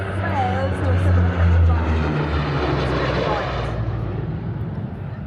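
Military aircraft pulling up into a zoom climb at an airshow in Wanaka, New Zealand, a loud sustained engine roar that swells and then slowly fades, with a voice talking over it.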